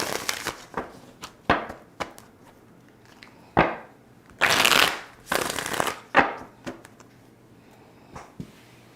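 Tarot cards being shuffled during a live reading, a series of distinct riffling bursts and soft taps at irregular intervals, close and clear with no talking.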